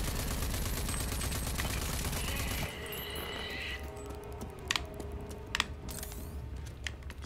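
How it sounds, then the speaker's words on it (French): Video game explosion and gunfire in the shooter RAGE 2 on Xbox One X: a dense, loud roar of blasts and rapid shots that abruptly cuts to quieter clatter with a few sharp single cracks afterward. "Sacrée explosion."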